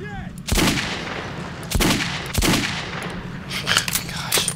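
Gunshots in the Metro 2033 video game: several loud, sharp shots spaced about a second apart, each with a booming tail, then a quicker cluster of cracks near the end over a steady rumbling background.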